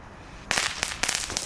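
Supermarket firecrackers set off outdoors, a quick series of four or five sharp, loud cracks following a quiet moment.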